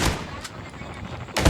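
Gunfire in the Call of Duty video game opens the stretch, then a low rumbling lull follows before another sharp, loud shot lands at the end.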